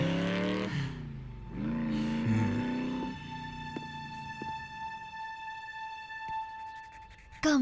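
A bike engine revs and accelerates through several rising pulls, then settles into a sustained tonal drone, loud and close, with no voices over it.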